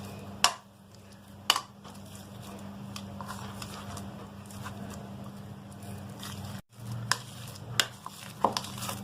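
Five medium boiled potatoes being mashed in a bowl, soft scraping and pressing with a few sharp utensil knocks at irregular intervals, close and fairly quiet.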